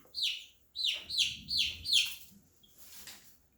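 A baby chick cheeps in a cluttered garage, four or five sharp, evenly spaced peeps close by and fairly loud, then a fainter call trailing off, no talk.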